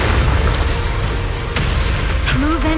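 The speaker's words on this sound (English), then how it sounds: "Move in during the gaps between explosions." Explosions in the video game Zenless Zone Zero: loud, dense booming blasts rumbling continuously with a few sharper bursts and synthetic tones sweeping near the end, no clear speech over them.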